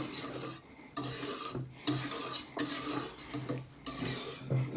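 A wire whisk scrapes and clinks against a bowl while egg yolks are folded into lightly beaten egg whites for ladyfinger biscuits, in repeated rasping bursts broken by short pauses, close and fairly loud.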